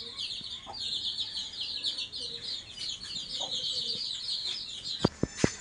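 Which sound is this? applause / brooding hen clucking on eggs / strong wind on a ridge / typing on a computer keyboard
brooding hen clucking on eggs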